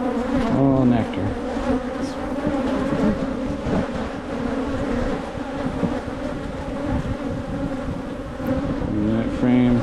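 Honey bees swarming around an open, overcrowded beehive, a dense, steady buzzing drone close by that stays loud and continuous throughout, with individual bees whining past now and then.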